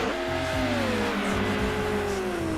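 Audi TT race car in the video game Gran Turismo 2, its engine droning steadily and loud throughout with a slowly falling pitch, game music beneath.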